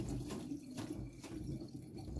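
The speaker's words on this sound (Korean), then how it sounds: "이런 식으로 깨끗하게 씻으시면 되겠습니다" Tap water runs and splashes over a radish being washed in a sink, a steady close rushing stream with faint pulses of handling that stops abruptly at the end.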